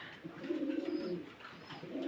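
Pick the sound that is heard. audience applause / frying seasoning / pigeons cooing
pigeons cooing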